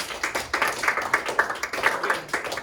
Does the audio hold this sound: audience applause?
yes